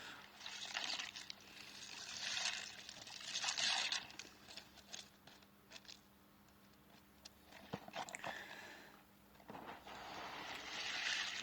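Lego pieces swirled and rattled in hot soapy water with washing-up liquid, giving a steady wash of splashing, sloshing and clinking plastic. The sound builds and eases in waves, with a few sharper knocks.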